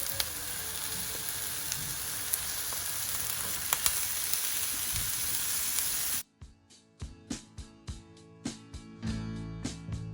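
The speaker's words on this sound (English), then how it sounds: "a little bit of onion, red onions, on the side of this pan, so they will just brown a little bit with the courgettes and aubergines" Red onions, courgettes and aubergines frying in a pan, a dense steady sizzle close up, then quieter crackling with sharp pops and spatters once the hiss drops off.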